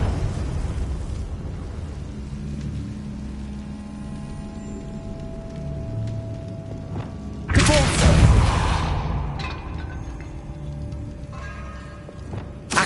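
A Confringo fire spell from the Hogwarts Legacy game bursts in a sudden loud explosive blast partway through, over a quieter game soundscape with a low ambient rumble.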